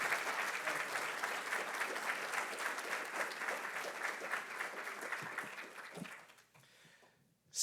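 A rail summit audience gives a sustained round of applause for an administrator, dense steady clapping from a sizeable crowd that holds for about six seconds and then fades quickly to near silence.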